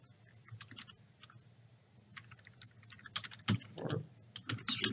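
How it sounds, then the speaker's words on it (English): Someone types a test entry on a computer keyboard, a steady patter of close, quiet key clicks that speeds up and grows louder in bursts toward the end, with no voices. "So I'm going to just type here, this is a test entry."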